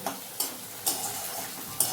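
Vegetables and fried eggs for chowmein stirred in a hot pan, with a steady sizzle of frying and a few sharp spatula scrapes at regular intervals, close and alone.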